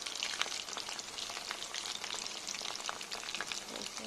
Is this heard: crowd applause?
no